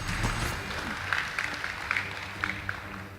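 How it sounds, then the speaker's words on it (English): An audience at a high school debate competition gives a short round of applause, a faint, crackling patter of clapping that continues at low level throughout. "Please give them a round of applause."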